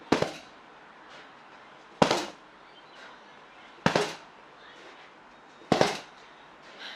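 Punches land on a heavy punching bag in four sharp, loud thumps spaced about two seconds apart, each followed by a brief rustle, with quiet between strikes.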